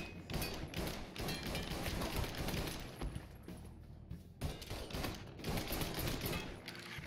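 Gunfire in the Mafia III video game: dense, rapid bursts of shots and heavy thuds crowd together almost nonstop, with a brief lull midway before the firing picks up again, loud and close.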